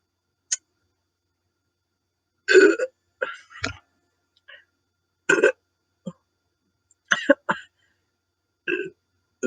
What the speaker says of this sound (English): Ooh, I can taste the banana in a burp.